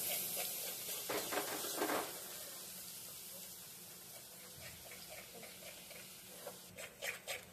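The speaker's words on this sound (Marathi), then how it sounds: "मसाला चांगला गोल्डन होईपर्यंत फ्राय करून घ्यायचा आहे." Spice masala fries in oil over a low gas flame, a faint, quiet sizzle with occasional soft utensil scrapes, some louder stirring bursts near the start and end.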